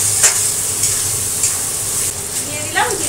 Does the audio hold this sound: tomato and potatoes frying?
yes